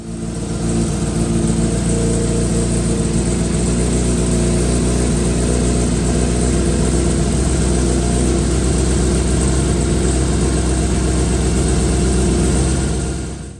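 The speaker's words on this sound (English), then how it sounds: "I do have to start the bike up now and get the oil through the oil filter" A 2003-2005 Yamaha R6 sport motorcycle idling just after an oil change, a loud, steady, close engine drone holding an even pitch throughout with no voices.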